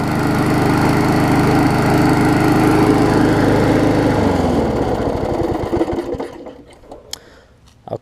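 Push mower with a Briggs classic engine running loud and steady up close, then slowing and sputtering as it winds down to a stop near the end.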